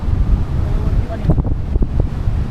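Stormy wind gusts buffet the microphone on an open seashore during a cyclone, a steady roar with low rumble and possible surf, while voices talk intermittently over it.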